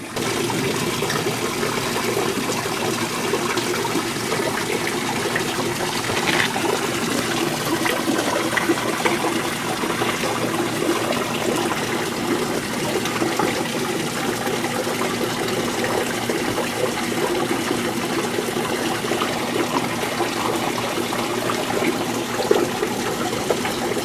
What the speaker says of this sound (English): Right where this tributary feeds into another creek, a more stronger creek.